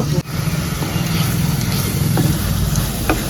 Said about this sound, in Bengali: এইভাবে আমি কষিয়ে নিলাম